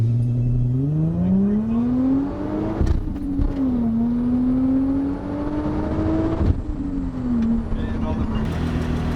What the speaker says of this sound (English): Okay, and now we're gonna launch the car.